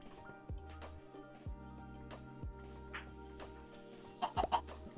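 A chicken clucks in the survival video game Blood N' Bones, a few short soft clucks near the end over a quiet game backdrop with low repeated tones, faint and distant.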